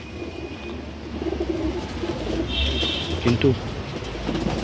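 Madrasi pigeons, including an old female, coo in a low rhythmic murmur under steady background noise, with a brief chirp-like squeak partway through and someone speaking briefly.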